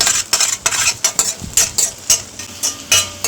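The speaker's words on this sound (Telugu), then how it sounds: "ఇప్పుడు మనం ముందుగా బీట్ చేసి పెట్టుకున్న ఎగ్ని వేసుకోవాలి" Beaten egg frying in oil in a pan while a spatula repeatedly breaks it into small pieces, giving a quick run of sharp metallic scrapes and taps over a faint sizzle.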